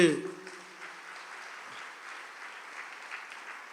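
A church congregation claps with raised hands, a faint, diffuse patter of many hands that continues steadily after a brief voice at the start.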